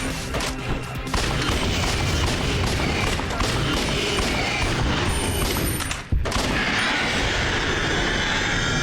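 Gunfire and explosive blasts in the video game Lawyer Of The Fist, a loud dense barrage with a heavy boom and a brief drop near the end, then the racket resumes.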